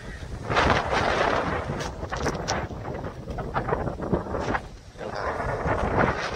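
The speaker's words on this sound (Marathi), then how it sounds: "मस्तपैकी वारा सुटलाय" Steady wind buffeting the microphone outdoors, a constant rough rumble with gusty surges throughout and no voices.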